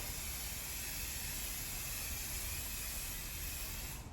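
Scotchgard fabric protector sprayed from an aerosol can onto a couch: a steady, continuous hiss running close and unbroken throughout.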